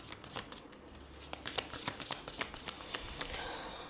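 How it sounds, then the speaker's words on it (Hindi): Tarot cards being laid out on a table during a love reading, a close run of crisp flicks, slaps and riffling card sounds in quick uneven succession. "इनको हम कुछ इस तरह रखते हैं ताकि बाकी के कार्ड्स भी रख सकूँ मैं"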